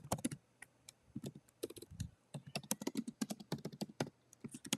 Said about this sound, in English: I'm going to type it right now